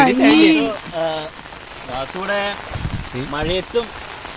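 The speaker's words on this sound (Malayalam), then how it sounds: "ഇടിയൊക്കെ വെട്ടിട്ട് വരുന്നുണ്ട് മഴ അവിടുന്ന്" Steady rain with thunder patters on a surface at paddy fields while people talk over it nearby.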